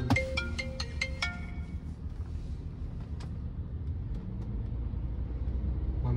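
A phone ringtone plays in a car, probably a 2007 VW Touareg V6, as a short run of bright repeated tones at the start over steady engine and road rumble that continues to the end.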